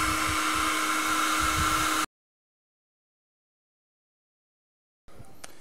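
A heat gun blows hot air on a Galaxy S4 phone screen, a steady loud whooshing hum with a faint tonal whine that cuts off abruptly, leaving silence before quiet handling noises return.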